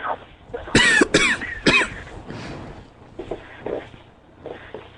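Several loud, close coughs burst out in a quick cluster near the start, followed by quieter throat noises and faint rustling over a low background hum.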